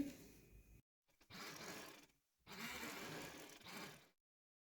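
A sewing machine stitches the fitting seams of a party-wear frock in three short, quiet runs separated by brief pauses, whirring softly at close range.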